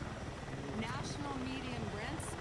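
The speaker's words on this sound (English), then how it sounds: "Are you flying the helicopter?" A helicopter flies in the video game Battlefield 6, a faint, steady rotor whir running beneath louder voices talking throughout.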